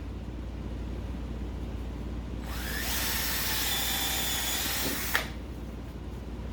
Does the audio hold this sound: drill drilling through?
yes